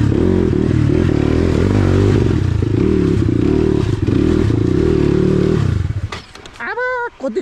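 A motorcycle rides on a rough track, its engine a loud, close, steady drone with rattling clatter, cutting out near the end as a short whistle-like tone rises.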